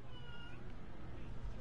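A house cat gives a drawn-out meow early on, then quieter cries under steady background game audio and low rumble from a Fortnite session.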